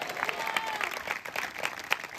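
A church congregation claps to welcome the pastor, a brief, moderately loud burst of scattered applause with distinct individual claps standing out, no one speaking over it.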